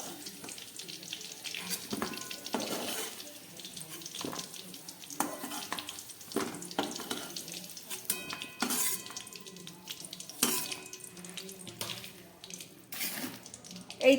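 Mushrooms frying lightly in oil in a pan over low gas, a soft steady sizzle with scattered scrapes and clinks of stirring, close and fairly quiet.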